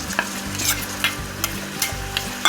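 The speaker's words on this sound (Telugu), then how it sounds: "మసాలా కూడా బాగా వేగాలి" Spiced masala paste frying and being stirred in a hot pan with onions while making Telugu-style fish pulusu: steady close sizzling with repeated scraping stir strokes and occasional sharper spatters, no talking.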